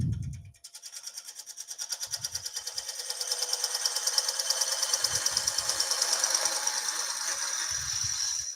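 Sharp gouge taking light cleaning cuts on a wooden gate post finial spinning on a lathe, a steady close whirring chatter that builds and holds for several seconds, with no talk.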